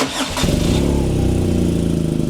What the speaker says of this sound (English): Oh, nice little burble. That's a stock pipe.